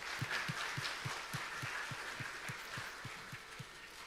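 Church congregation clapping during a Korean Sunday service on Children's Sunday, a soft wash of applause over a steady low rhythmic beat at about two per second.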